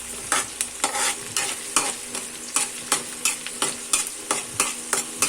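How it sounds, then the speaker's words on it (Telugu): Onion pieces and curry leaves frying in a pan are stirred with a steady run of sharp scraping strokes, about two per second, over a constant close sizzle, with no voices. "ఆనియన్ ముక్కలు కరివేపాకు వేసుకున్న తర్వాత బాగా కలపాలండి."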